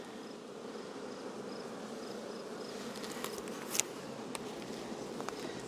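A steady, low hum of many honeybees buzzing close by in a hive, continuous throughout, with occasional faint clicks and taps.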